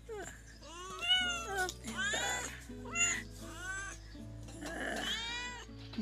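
A kitten cries for its mother with repeated, rising meows that come close and loud, one after another with only short gaps.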